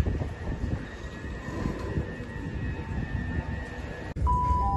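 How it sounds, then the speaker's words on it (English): A Southern passenger train heading for London Victoria rumbles past near the River Arun by Arundel, a loud, steady low roar with a thin whine on top, ending abruptly. "Look. Train coming. There's your train."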